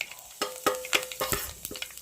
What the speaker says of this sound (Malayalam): നമുക്കതിനകത്തേക്ക് കടുക് ഇട്ട് കൊടുക്കാം. കടുക് പൊട്ടി വരട്ടെ.